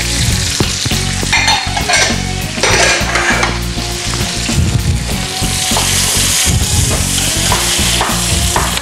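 Onion and bell pepper sizzle loudly in a hot pan, with a dense, continuous crackle and frequent clattering knocks of a utensil stirring the vegetables.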